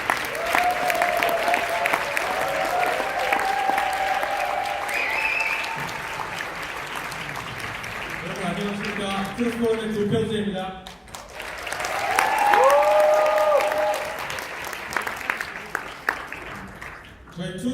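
An audience at a friendship night event applauds to welcome a speaker, sustained crowd clapping running throughout, with a voice speaking over it and cheering rising partway through.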